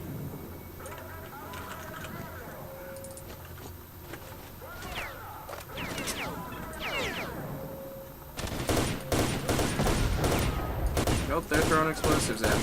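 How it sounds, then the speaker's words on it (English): Machine gun fire in S.T.A.L.K.E.R.: Shadow of Chernobyl, dense rapid bursts growing loud and continuous in the second half, with earlier scattered shots and someone talking over it. "From their outpost position where they're dug in with machine guns and whatnot."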